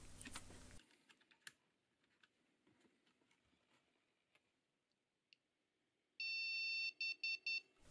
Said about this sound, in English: One long and three short beeps. That means missing graphics card